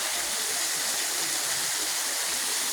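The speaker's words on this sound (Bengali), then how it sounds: "এই জায়গা থেকে ওখানে ওই ঝর্ণাটা বিউটিফুল লাগছে" A waterfall roars as a steady, dense broadband rush of falling water, even and unbroken throughout, with no voices over it.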